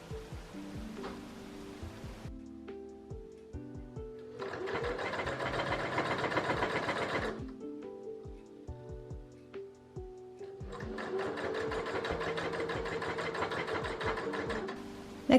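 A sewing machine stitches a narrow hem on a dress in two long, even runs of fast mechanical whirring, with short pauses and small clicks of handling between them.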